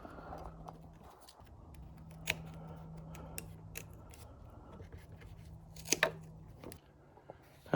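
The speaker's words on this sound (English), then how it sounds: "now we're just going to cut around these little holes here" Scissors snip through convertible top material around small holes on a classic 1984-1993 Porsche 911, giving a scattering of soft, close cuts with a few sharper clicks over a steady low hum.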